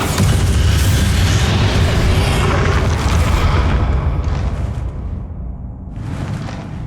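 A Bombarda spell blast in Hogwarts Legacy's final battle: a loud, sustained booming explosion with heavy low rumble that rolls on for several seconds before gradually tailing off, no voices present.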